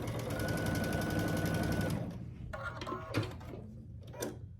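A sewing machine stitches across a quilt block in a fast, steady, close whir for about two seconds, then stops, followed by light handling clicks and rustles.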